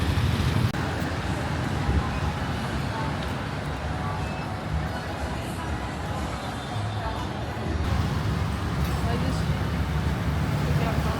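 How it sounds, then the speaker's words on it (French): Steady roadway noise fills the streets of Phnom Penh, a constant wash of engines and passing vehicles with wind buffeting the microphone, continuous and moderately loud throughout. "la circulation à Phnom Penh, c'est le bordel, clairement"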